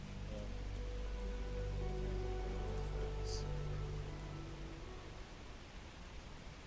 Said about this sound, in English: Ooh, it's raining here,